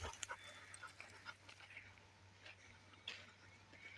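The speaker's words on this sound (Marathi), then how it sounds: "माझ्यासोबत एक कुत्रं पण आलंय बघा" A dog walking alongside a farmer through a farm field pants softly, with faint, quick breathy puffs and a few small snuffles, close but quiet against light outdoor background.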